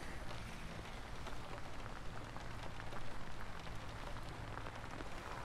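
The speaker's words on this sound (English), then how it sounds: "a little rain ain't gonna hurt it" Rain falls steadily during a bass fishing outing, a dense close hiss with scattered drop patter throughout and no talking.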